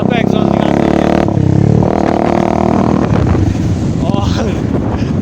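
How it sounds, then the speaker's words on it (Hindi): A Bajaj Dominar 400 motorcycle with its exhaust removed runs loud and close, its raw engine roar swelling with throttle amid heavy wind buffeting, as voices talk over it. "आवाज़ जो है एग्जॉस्ट की भयंकर, मतलब अभी से ही आवाज़ इतनी तगड़ी है"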